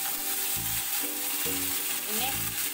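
Mustard seeds, dried chilies and curry leaves sizzle in hot coconut oil for a Kerala chutney tempering, a steady close frying hiss with soft clinks and stirring bumps, no talking.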